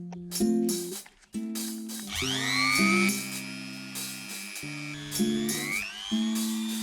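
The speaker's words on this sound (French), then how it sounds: "j'ai percé les deux premiers. Je vais également percer" A power drill bores through LiPo battery cells in short bursts, its whine rising in pitch as the motor spins up and changes under load, close and fairly loud, with brief pauses between passes and no talking.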